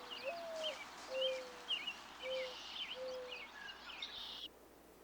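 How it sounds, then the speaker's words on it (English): A mourning dove coos softly nearby in a series of low, drawn-out notes in a steady rhythm, with faint higher chirps from other birds in the background. "like this mourning dove."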